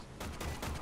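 Gunfire from the video game Warframe, a rapid string of loud, dense bursts roughly every fifth of a second, packed close together with no pause or talk.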